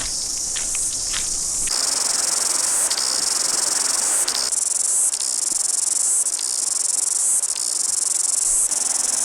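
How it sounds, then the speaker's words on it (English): Dense, continuous buzzing of cicadas in New Zealand near Rotomairewhenua lake fills the air, loud and steady, with a few brief shifts in intensity and no voices. "So when you actually start looking for cicadas, you have one here."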